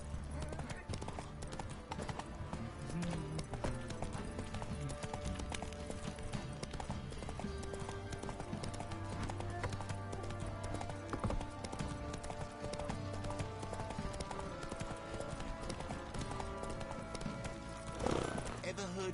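Roach, a horse in The Witcher 3, gallops with steady rhythmic hoofbeats that run throughout under game music and ambience, with a voice speaking over it.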